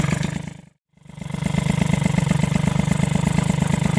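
A motorcycle engine idles low and steady on a low idle setting, with a rhythmic rumbling pulse, briefly cutting out for a moment before resuming.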